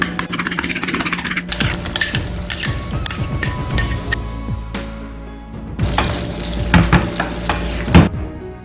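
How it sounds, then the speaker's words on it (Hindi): Yogurt being whisked in a bowl, with brisk irregular stirring and scraping close up, punctuated by metallic clinks of a spoon against the dish, loud and without talk. "ये देखिए 4 टेबल स्पून दही है"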